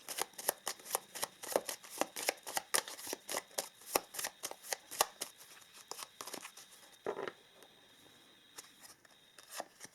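Wishcraft oracle cards are shuffled by hand in crisp, quick riffling flicks that come steadily and then thin out toward the end, close and fairly quiet.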